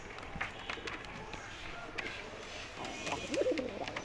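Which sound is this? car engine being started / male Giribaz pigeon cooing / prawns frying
male Giribaz pigeon cooing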